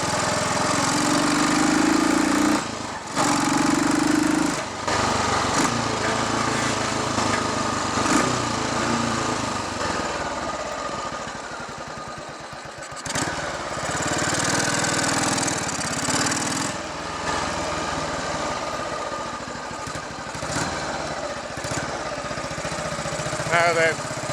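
A Royal Enfield Bullet 500 motorcycle with a Watsonian sidecar, fitted with a raised carburettor needle, runs on a test ride; the single-cylinder engine thuds steadily and loudly close by, rising and falling with the throttle, with wind noise throughout.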